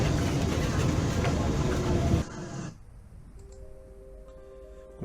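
A Lisbon tram rumbles along loudly with dense rattling noise, then the roar drops off abruptly to a quieter hum with steady tonal whine as it slows or stops.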